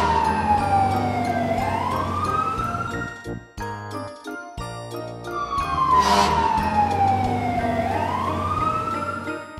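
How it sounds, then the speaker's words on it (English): A fire engine siren wails loudly in long rising and falling sweeps, with a brief break of clattering and tinkling sounds between the two passes. "Fire Engine."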